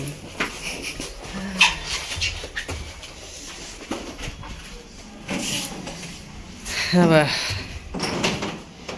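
A dog at the beach whimpers and barks in short bursts amid wind, surf and people talking, with a door-like thud partway through.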